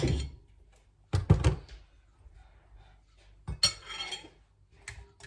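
Utensils clank and scrape against a bowl or pot while ingredients such as chili and sliced red shallot are mixed for a Thai rice noodle salad, with loud bursts of clatter separated by quieter gaps.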